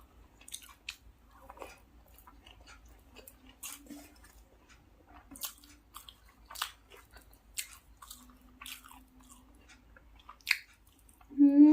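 Close, quiet chewing of spicy chicken curry with rice, with soft irregular wet bites and squishy crunches spaced through a near-silent room, and a brief louder sound at the end.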